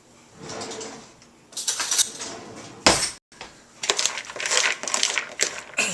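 Washed bean sprouts being tossed with sesame oil for bibimbap, producing close, irregular bursts of crunching and scraping with one brief pause in the middle and no talking.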